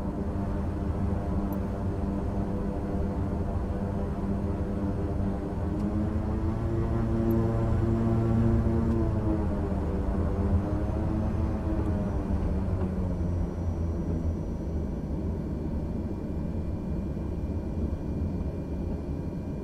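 Steady engine drone of a Beechcraft taxiing in Microsoft Flight Simulator 2020, a harmonic propeller hum that swells and bends in pitch around the middle before settling back to a constant idle.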